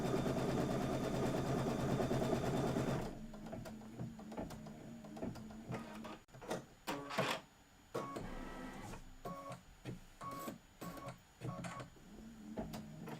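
A sewing machine stitches a Kimberbell table topper with a steady, loud mechanical hum at first, then quieter stretches broken by short motor whirs and clicks.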